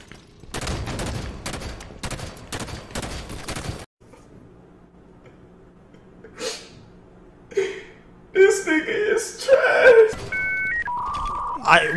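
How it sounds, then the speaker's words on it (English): Rapid bursts of gunfire in the Halo 5 video game crackle for several seconds, then stop, giving way to quieter game effects and a few sharp electronic tones near the end. "there's literally only gunshots where I am"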